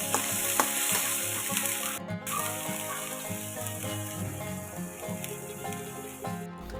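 Meat frying in a pan with garlic and onion for bagoong alamang, giving a dense, continuous sizzle close to the microphone with occasional stirring clicks, and no voices.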